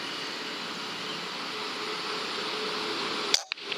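An air rifle fires a .177 slug pellet, a single sharp report bursting out near the end after a long, steady stretch of broadband hiss, then cutting off abruptly.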